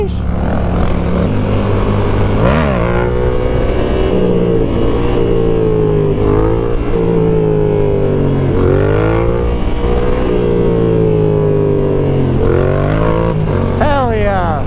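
A Yamaha R7 sport bike merges onto the highway, its engine loud and close as the revs climb through repeated gear shifts with brief dips between, while the rider talks over the engine.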